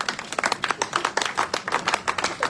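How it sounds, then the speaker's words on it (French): Dense applause from an audience in a church, many hands clapping together in a steady, lively burst that stays close and loud throughout without a break. "Acclamez pour vous-même."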